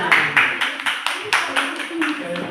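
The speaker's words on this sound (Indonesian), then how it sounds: "Oke, tepuk tangan." Children clap together in a primary school classroom during a fifth-grade religious education lesson, a few loud uneven bursts of applause that rise and fall, with faint voices underneath.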